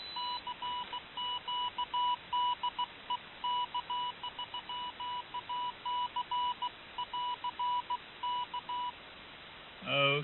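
Morse code practice tones from a keyer at about 25 words per minute, a steady pitched beep keyed in rapid dots and dashes with brief pauses, clean and alone.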